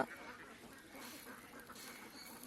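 Ducks quacking in a farmyard, a low steady chorus of soft overlapping calls heard fairly faintly at a short distance.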